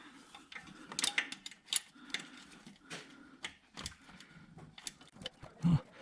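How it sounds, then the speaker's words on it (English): A ratchet wrench clicks in quick bursts while loosening bolts on the 5.3L engine of a 2008 Chevy Suburban, the sharp ticks coming near and fairly clear with brief pauses and handling noises between strokes. "Let me just try a ratchet wrench."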